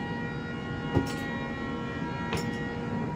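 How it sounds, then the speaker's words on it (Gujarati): A departing train rumbles steadily with a low mechanical drone, two brief sharp clanks breaking through, fairly distant and moderately quiet. "ચાલો ટ્રેન ઉપડે છે"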